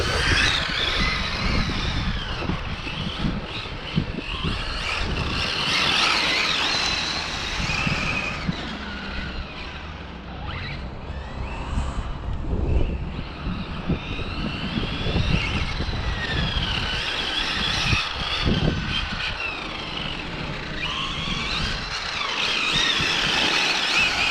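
A Hobao Extreme VTE2 1/7-scale RC NASCAR drift car on a 6S setup runs continuously with a high electric motor whine and tyre squeal, rising and falling as it drifts, loud and close throughout.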